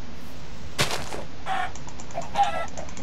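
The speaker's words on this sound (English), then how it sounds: "Look at the chickens." Chickens in Minecraft make short clucking calls, a few brief separate bursts at moderate level over a faint steady background, with no speech.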